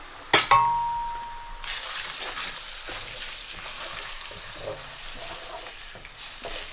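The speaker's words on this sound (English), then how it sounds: "I'm just going to fry that together just so that it cooks through" Potatoes and chickpeas fry together in a pan for aloo chana, a steady sizzle with stirring scrapes and a sharp clank of a utensil near the start.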